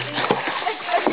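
A swimmer doing front crawl splashes in water near a riverbank, soft repeated strokes heard fairly faint beneath an outdoor background of murmuring voices.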